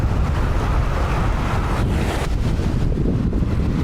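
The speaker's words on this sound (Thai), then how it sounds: "ลมทะเลพัดแรงพัดเย็นมากครับพี่น้องครับ" Strong sea wind gusts across the coast, roaring steadily and loudly against the microphone with a broad rushing noise and a faint wash of surf beneath, no voices present.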